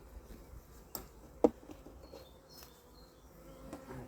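Honeybees buzz inside an opened beehive body, a faint, steady low hum close by, broken by a few soft knocks and clicks as the hive is handled.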